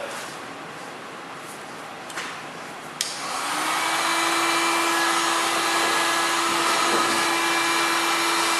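A heat gun is switched on to heat a plastic car bumper and settles into a steady, loud blowing whir with a sustained hum. It sounds close and runs without talk.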